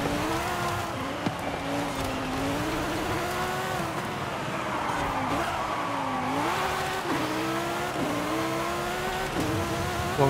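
A 1,200-horsepower V10-swapped Ferrari 458 Italia races in Forza Horizon 5, its engine screaming through rising and falling revs with gear shifts and tire squeal, steady and fairly quiet, with no voices.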